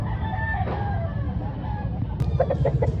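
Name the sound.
roosters crowing at chicken expo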